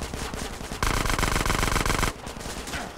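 Rapid automatic gunfire from a weapon in GTA San Andreas, a dense sustained burst in the middle flanked by quieter scattered shots, loud and close with no talking.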